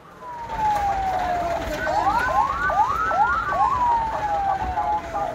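A fire engine siren at a fatal highway crash on the Jakarta–Cikampek toll road, loud and near, a long descending wail giving way to rapid rising yelp cycles over steady traffic roar.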